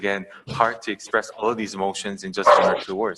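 A dog barks and whimpers with short yips under continuous talking throughout, its sounds never standing clear of the voice.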